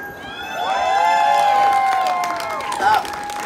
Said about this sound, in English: I think it'll be pretty apparent when to applaud.